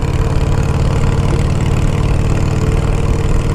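A 2007 custom bobber motorcycle engine idles close by, a loud, steady low rumble with an even pulsing beat that holds for the whole span with no voices.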